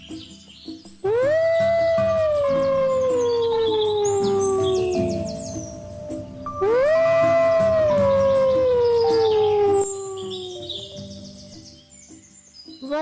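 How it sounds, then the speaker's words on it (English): A wolf howls twice, each long wavering note rising and sliding slowly downward with rich harmonics, loud and close, separated by a short pause with faint background calls. "Wolf."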